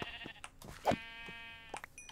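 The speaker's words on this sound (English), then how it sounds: "Hi, sheep." Sheep in the Minecraft video game bleating, a few nasal, wavering bleats close by with short clicks and game noises between them, no talking.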